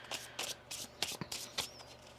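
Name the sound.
shuffling tarot cards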